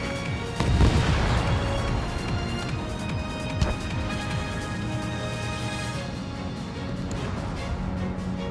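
Missiles and explosions in the aerial combat game Ace Combat 7: a heavy boom rumbles up early and fades into a continuous roar, with a sharp blast in the middle, all loud and dense.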